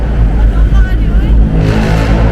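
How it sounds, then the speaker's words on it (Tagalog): A loud, noisy classic jeep engine roars and revs close by, echoing as if in an enclosed space, Kaybiang Tunnel, with voices murmuring underneath. "Ang ingay naman ang jeep na yan."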